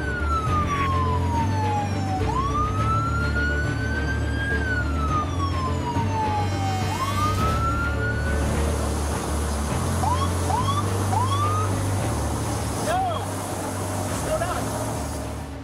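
A police car siren wails and yelps up close, sweeping through long rising and falling tones before switching to short rapid whoops, over a steady engine rumble.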